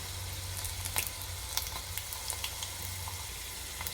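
Garlic and a little urad dal frying in oil for a village-style green chilli chutney, a steady close sizzle with occasional sharper pops and crackles.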